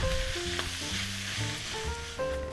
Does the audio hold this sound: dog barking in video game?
no